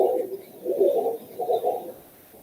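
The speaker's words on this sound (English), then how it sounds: "Here he hears the birds" Birds call in a park, heard as soft, low, rounded cooing phrases in a few separate bursts, fairly close and alone with no talk.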